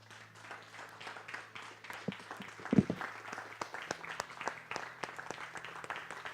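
A church congregation applauds during a service, soft scattered clapping at a distance with individual sharp claps standing out, fairly faint over a low steady hum.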